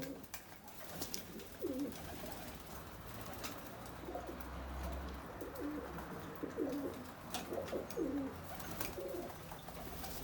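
Pigeons coo repeatedly on a balcony, soft low calls rising and falling over several seconds against quiet outdoor background with faint chirps.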